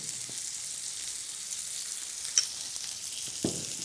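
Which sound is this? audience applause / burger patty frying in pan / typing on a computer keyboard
burger patty frying in pan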